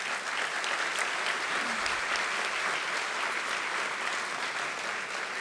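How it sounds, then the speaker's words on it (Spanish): Steady, dense applause from a large audience fills the hall at a Santo Domingo international forum, a sustained even roar of clapping welcoming a panel moderator, close and continuous throughout. "para quien quiero pedir un fuerte aplauso de bienvenida"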